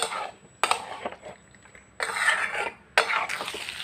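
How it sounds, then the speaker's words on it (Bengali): A spoon scrapes and clanks in a pan while a spice mix is stirred together with fried potatoes, in three or four separate bursts of scraping with short quiet gaps between them. "আবারও খুব ভালোভাবে এর সাথে কষিয়ে নেব।"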